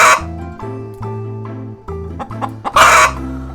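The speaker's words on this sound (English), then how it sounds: "can you make the sound of a chicken?" A chicken clucks and a rooster crows in a run of loud, close, throaty calls with brief pauses between them, ending in a longer, harsher burst.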